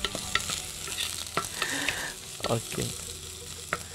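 Onion frying and being stirred in a pan, a steady sizzle under scraping stir strokes, with a few sharp clinks of the utensil against the pan and a brief word spoken.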